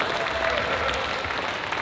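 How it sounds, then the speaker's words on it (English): Audience applause at a roast of a city mayor, a steady dense wash of clapping that holds evenly from start to finish with no voices. "And we should clap again."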